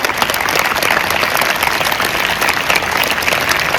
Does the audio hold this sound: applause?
yes